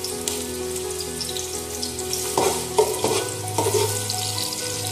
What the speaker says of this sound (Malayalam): ആദ്യം നമുക്ക് ആ ഉള്ളി ഒന്ന് പൊരിച്ചെടുക്കാം.